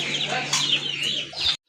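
A native country chicken clucks close by, a run of bright squawking calls with soft flutter underneath, ending abruptly.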